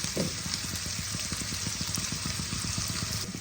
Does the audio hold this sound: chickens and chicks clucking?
no